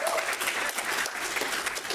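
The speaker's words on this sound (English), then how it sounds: "Give a round of applause for Hatch Pitch" Loud, dense applause from a crowd at a cyber summit pitch competition, continuous clapping filling the full two seconds with a close, busy texture.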